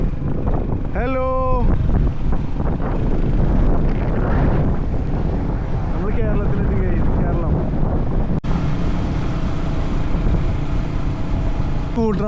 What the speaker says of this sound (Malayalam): ഇവിടെയും ചെറിയ കാറ്റ് വരുന്നുണ്ട്.